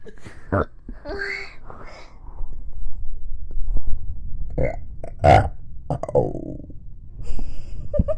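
A long, loud burp rolls out close to the mic amid other throaty vocal sounds and breathing, with a second belch near the middle and some quieter gassy noises after.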